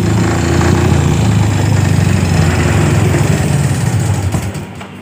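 A motorcycle engine idles roughly up close, then sputters and fades as it dies out near the end.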